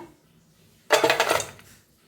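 Pieces of jaggery dropped into a metal tin in a home kitchen, making a sharp clattering rattle that settles into a few smaller knocks over about a second.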